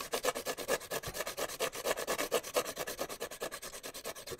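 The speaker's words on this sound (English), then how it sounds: "all I'm doing is the same sandpaper, and I'm turning and turning." A drawing implement's point turned and sharpened against sandpaper, giving a steady, close rasping rub that repeats in quick rhythmic strokes throughout.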